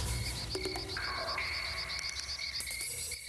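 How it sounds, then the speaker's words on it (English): Insects chirp in a dense, continuous night chorus, with frog-like croaks mixed in, quiet and steady. "Those crickets holding strong though"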